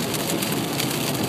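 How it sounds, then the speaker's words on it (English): Heavy rain pours down outside in a dense, steady hiss and patter, loud and close throughout the short stretch, with no voices. "It's pouring rain."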